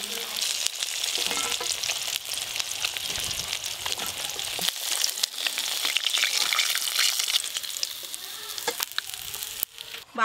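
Katla fish pieces frying in hot oil give a crackling, spattering sizzle with scattered pops and the scrape of stirring, close and fairly loud, with no voices.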